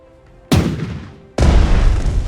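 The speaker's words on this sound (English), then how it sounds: "Attack the destroyer with the main gun for the second time." A battleship's main gun fires at a destroyer in the naval strategy game Strategic Mind: The Pacific: two heavy, booming blasts close together, each followed by a rumbling decay.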